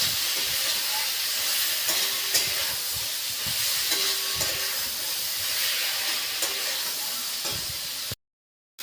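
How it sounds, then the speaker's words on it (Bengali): Coriander powder and a spice masala made with ground dried banana fry in a pan for a fish, ridge gourd and potato curry, giving a steady loud sizzle with stirring scrapes, before a sudden cutoff near the end. "ধনে গুঁড়ো, শুকনো কলা ভেজে গুঁড়ো করেছিলাম সেই মশলা এগুলো দিয়ে ভালো করে কষে নিচ্ছি"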